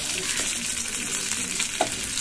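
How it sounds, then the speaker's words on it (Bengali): Fish fries in a pan of hot oil in a home kitchen, a steady close sizzle and crackle with one brief scrape of turning or stirring. "এই মাছটা ছেলে খাবে বলেছে, একটু ভালো করে ভেজে দিই, তাই একটু বেশিক্ষণ ধরে ভাজছি আর কি।"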